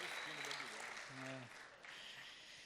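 Congregation applause during a Saturday church service, a dense steady wash of many hands clapping, with a voice speaking and singing tones rising over it partway through.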